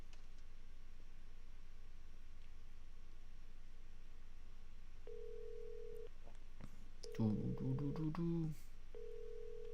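Phone ringing in the Yakuza video game: a steady electronic ring tone repeats in short bursts across the clip, joined midway by a louder chirpy game jingle, with faint background hum underneath.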